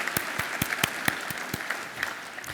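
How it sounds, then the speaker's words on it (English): An audience at an energy summit claps sparsely, with a handful of distinct, fairly close claps spaced irregularly over a low background. "if you would please join me in a round of applause for Gates and his efforts"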